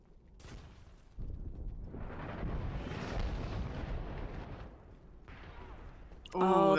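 A grenade explosion in a competitive team shooter match swells into a long rumbling boom lasting several seconds, with a second burst later and a sharp electronic sound at the very end.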